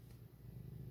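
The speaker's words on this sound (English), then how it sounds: "And if you see the camera shaking, that is my cat, once again rubbing her face on it." A cat purrs steadily and softly right up close while rubbing her face against a camera, a low continuous rumble with no talking.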